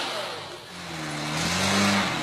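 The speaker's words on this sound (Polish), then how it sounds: "Silnik pracuje bez zastrzeżeń i wszystko działa jak w zegarku." Engine of a 1979 FSO Polonez 1500 car running steadily nearby, with a low, even drone that rises slightly in pitch as it revs a little toward the end.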